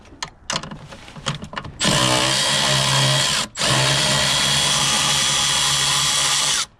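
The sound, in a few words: power tool removing nut on Dodge Journey 3.6L engine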